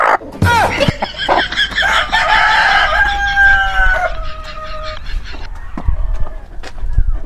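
A rooster crows loudly nearby in a long drawn-out call, with clucking chickens and a honking goose around it and brief voices mixed in.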